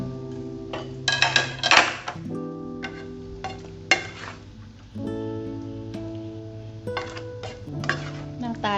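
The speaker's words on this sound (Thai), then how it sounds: "เดี๋ยวเราตักเสิร์ฟกันนะคะ" A utensil scrapes and clinks against a pan while sweet and sour stir-fried shrimp is scooped out to serve, giving several sharp metallic scrapes and taps over a steady low hum, with a voice speaking quietly.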